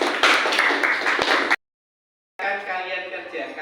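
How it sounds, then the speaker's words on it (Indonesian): A classroom audience claps after a group presentation, with a short burst of steady applause that cuts off abruptly, followed by a second, softer stretch of clapping and murmuring voices. "Kita beri aplaus."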